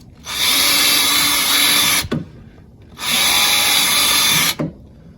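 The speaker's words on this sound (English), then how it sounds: "Drill 2 small holes on the bottom of the cover." A power drill whirs loudly in two bursts of about two seconds each, boring small holes in a plastic headlight cover of a Range Rover Evoque, ending with a clunk as it breaks through, with a short pause between them.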